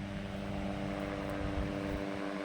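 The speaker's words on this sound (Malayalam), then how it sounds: "ഒരു ഹെലികോപ്റ്റർ പോകുന്നുണ്ട്." A helicopter passes above a beach by a university campus, giving a steady, fairly faint droning whir that holds level throughout with no talking.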